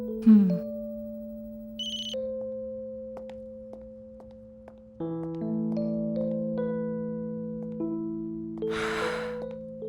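A melodic electronic phone ringtone plays in steady sustained tones that change pitch in steps, ending with a brief burst of breathy noise.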